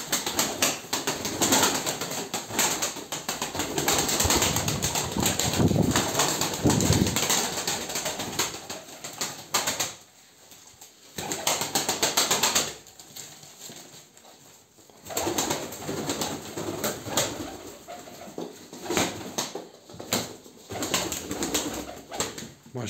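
Pigeons cooing and flapping their wings, heard outdoors for a long stretch; fluttering bursts and soft coos come and go at close range against a constant noisy background, with quieter gaps between.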